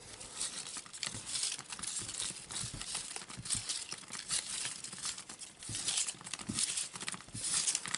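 Paper raffle tickets for a Pokémon-themed prize draw are stirred by hand, giving a steady close crinkling and rustling patter that runs without pause, with no talking over it.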